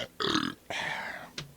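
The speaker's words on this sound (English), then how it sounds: "Oh, I burped." Three separate burps from one person, the first two long and gurgling, the last a short clipped belch, close and fairly loud with quiet gaps between them.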